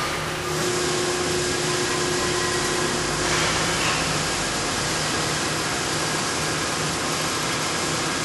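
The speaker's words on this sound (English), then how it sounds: "What's behind me here is our Series 4 rolling machine press." Series 4 rolling machine press rolling the inner and outer steel cords of a 5-inch diameter cord for building frames, a loud, continuous mechanical drone with a steady hum, heard alone in the factory.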